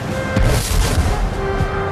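Napoleon's powerful cannon barrage at Waterloo, heard as a dense, continuous rumble of heavy booms and crashes, loud and sustained across the whole stretch with no voices.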